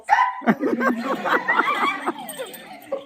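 Puppies yapping in quick, high-pitched bursts, several overlapping barks close by, with a bit of chatter mixed in.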